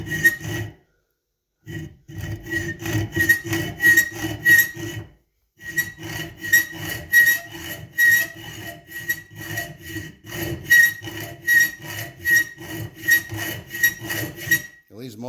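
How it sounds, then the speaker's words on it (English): A hacksaw cuts a slot into a welded metal pole with rapid, regular rasping back-and-forth strokes, loud and close, stopping briefly twice before starting again. "I'm going to precision hacksaw this this slot in here"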